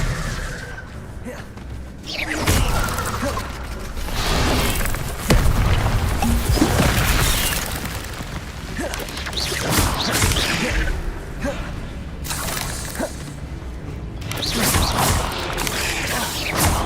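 Incendio and Expelliarmus spells cast in the Hogwarts Legacy video game fire in quick succession, loud booms, whooshes and crashing impacts layered into a continuous, busy burst of magical combat effects.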